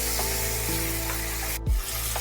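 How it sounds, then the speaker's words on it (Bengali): Potatoes frying in a wok with salt and turmeric on a gas flame turned from medium toward low, a steady close sizzle with a brief stir or clatter near the end, with no talk. "এদিকে আমার আলু ভাজা হচ্ছে।"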